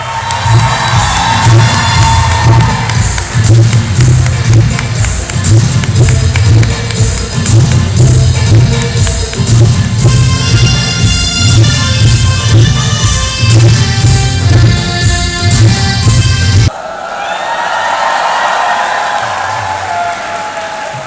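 A festival audience at the Bahawalpur Literary Cultural Festival 2022 breaks into loud, sustained applause and cheering to welcome Tauqeer Nasir, the clapping filling the hall continuously before cutting to a softer, more distant murmur of clapping.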